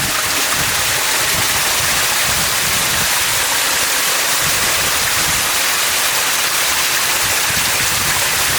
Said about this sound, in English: with a huge amount of water coming down,